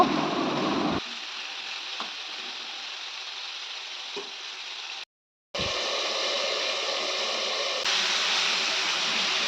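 Pumpkin and ridge gourd fry in a pan, giving a steady hissing sizzle. It drops quieter for a stretch, cuts out briefly, then comes back louder. A few faint clicks of utensils are heard, and no one speaks.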